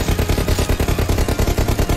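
Rapid, evenly spaced bursts of automatic gunfire in PUBG, loud and continuous like a machine gun firing.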